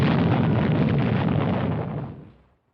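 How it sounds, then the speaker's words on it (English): A massive explosion on the surface of the sun, staged as a film sound effect: a loud, dense, sustained roar holding steady for about two seconds before rumbling away into silence, with no voices present. "a tremendous explosion on the surface of the sun"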